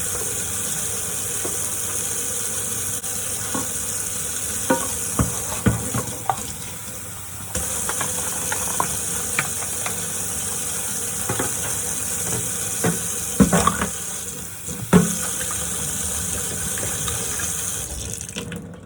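A hot water tap runs steadily to mix home brew sanitizer, a continuous loud gushing splash. Scattered knocks and clinks of stirring sound under the flow, with a short dip partway through.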